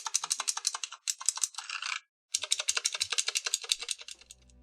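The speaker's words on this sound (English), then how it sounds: "this keyboard comes with Outemu Blue switches, which offer that super clickety-clack kind of sound" Fingers type quickly on a cheap mechanical keyboard fitted with Outemu Blue switches, a close, crisp run of clicky keystrokes in two bursts separated by a short pause, with no talking.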